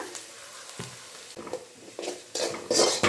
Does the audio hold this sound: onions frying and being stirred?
yes